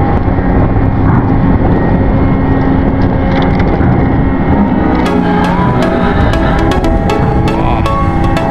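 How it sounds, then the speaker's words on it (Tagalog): Strong wind roars steadily and loudly as the ship Starhorse XII departs, a dense unbroken rush with sharp clicks and knocks scattered through its second half. "Lakas ng hangin."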